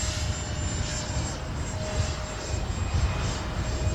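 A Freewing A-6 Intruder RC jet runs at full power for takeoff into the wind. Its loud, steady electric ducted-fan roar sits close and continuous, with a thin high whine over it and no voices.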